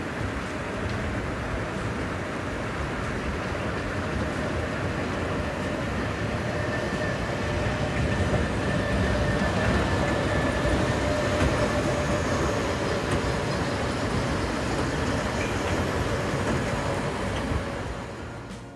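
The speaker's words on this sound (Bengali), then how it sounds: "দেখুন ট্রেনটি আমাদের কাছ দিয়ে যাবে" A colourful amusement park ride train at Sharif Park in Keraniganj rumbles past nearby with a steady rolling clatter that continues for the whole stretch.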